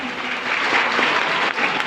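Applause for children who took part in a quiz at a youth festival opening ceremony: a crowd claps steadily for about two seconds, dense and fairly close, with a faint voice underneath.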